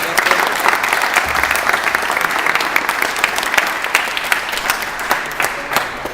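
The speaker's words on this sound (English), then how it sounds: "give Pat a round of applause" Sustained applause from a crowd, steady and fairly loud throughout, with dense overlapping claps.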